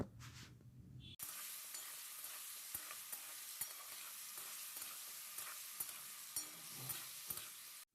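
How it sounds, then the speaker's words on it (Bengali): Capsicum and tomatoes with salt and turmeric powder hiss in a hot pan, a sudden start into a dense, even sizzle with faint stirring taps, close and continuous until it cuts off. "ক্যাপসিকাম আর টমেটোগুলো যতক্ষণ ভাজা হতে থাকে"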